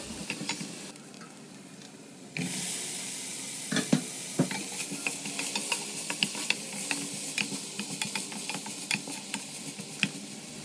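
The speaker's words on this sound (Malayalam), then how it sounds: "ഇനി അത് കുറച്ച് ഉപ്പും കൂടി ചേർത്ത് നന്നായിട്ടൊന്ന് വഴറ്റിയെടുക്കണം" Onions sautéing with salt in a pan, a soft steady sizzle that jumps louder partway through, with a spatula scraping and stirring in irregular taps over the frying.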